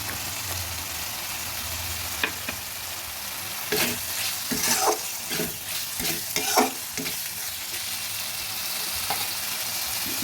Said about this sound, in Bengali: এবার দিয়ে দেবো আমি একটা টমেটোকে ছোটো ছোটো করে কুচি করে কেটে নিয়েছি এবং তিন চারটে কাঁচা লঙ্কা চিড়ে দিচ্ছি